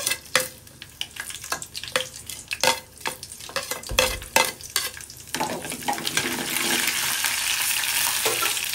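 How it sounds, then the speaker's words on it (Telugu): Mustard seeds and other tempering spices dropped into hot oil for mango pulihora, popping and crackling in sharp bursts that build into a steady, loud sizzle with occasional stirring scrapes, no talking. "సో నేను అందులోని పోపు దినుసులు వేసేస్తున్నాను."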